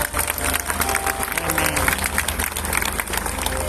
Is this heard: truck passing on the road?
no